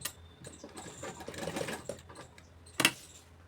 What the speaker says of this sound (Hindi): सिलाई लगा देना है।